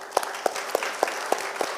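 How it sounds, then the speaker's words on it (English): At a youth entrepreneurship conference, evenly spaced claps ring out one after another, about six in quick steady rhythm, fairly close over a faint crowd murmur. "Give My DNS a round of applause"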